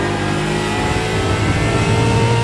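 A car passing close on the right, its engine revving and accelerating as a loud steady roar that swells toward the end, with no talk over it.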